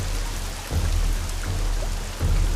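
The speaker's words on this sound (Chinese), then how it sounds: "烈日当空，竟下起了瓢泼大雨" Heavy rain pours down in a dense, continuous hiss, with low rumbling surges that swell and ease over a couple of seconds.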